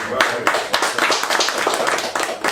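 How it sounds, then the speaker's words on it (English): A small group gives a round of applause in an indoor gathering, close, dense clapping with quick sharp hand strikes that keeps a steady pace for the whole stretch. "I just going to give you all a round of applause for doing what you're doing"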